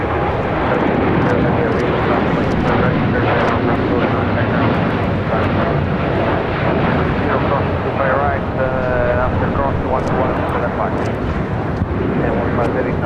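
A Japan Airlines Boeing 787-9 Dreamliner in oneworld livery takes off from LAX for Tokyo Haneda, its loud, steady jet roar filling the air under continuous talk.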